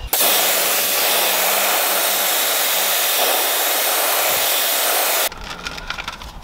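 Pressure-washer water rinsing foam off a BMW M40i wheel, a loud steady hissing spray that runs for about five seconds, then stops abruptly into a quieter dripping tail.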